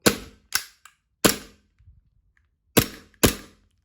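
A WE G17 BB pistol fires five sharp, loud, close cracks in quick groups, with a faint mechanical click and clatter between the shots.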